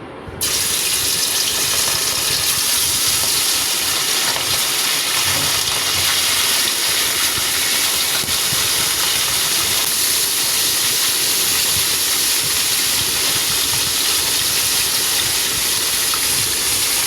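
Fish sizzle loudly in hot oil in a well-heated karahi, a dense, steady, close frying hiss that starts abruptly and holds for the whole stretch without talking.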